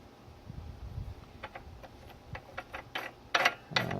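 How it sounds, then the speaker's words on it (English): Rusty idler pulley on a Toro snowblower turning with uneven ticking and rattling clicks that grow louder toward the end, close by with no voices. "And the idler pulley is rusty and"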